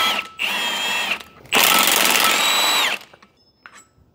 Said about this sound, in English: we have plenty of room to get in there with an impact and a wrench and take some drive shaft bolts